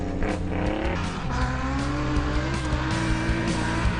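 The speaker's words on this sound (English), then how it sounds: "Listen to those revs go up." Racing engines, including a Nissan Hardbody rally truck at the Sannieshof 200 off-road race, roar and rev hard, pitch climbing and dropping through gear changes, loud and continuous with a rough, buzzing edge.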